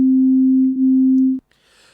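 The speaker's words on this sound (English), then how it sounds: "that has given me something here that approximates a sine wave" A pure, steady tone near C3, shaped by heavily boosting a resonant EQ peak and cutting everything else, sounds loud and constant for over a second with a tiny dip midway, then stops into near silence.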